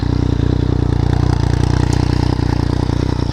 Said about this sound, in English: And you guys can hear that exhaust.